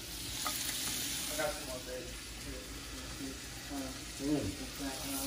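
Carrot hearts sizzle in butter in a pan with a continuous frying hiss, while a voice talks over it.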